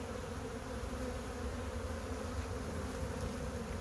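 Honey bees buzz steadily and densely around hive frames during a nuc transfer into a ten-frame deep box, a close, continuous drone with no talk over it.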